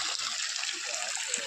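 Water from a farm borewell gushes in a steady, dense rush, close and continuous, with no break or voices.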